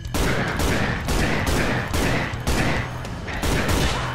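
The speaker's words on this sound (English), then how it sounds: "Quite a lot of shots with the pistol" Gunfire in the video game ROOOM: a rapid string of loud, punchy shots, roughly eight or nine evenly spaced bursts over four seconds, dense and close with no voices between them.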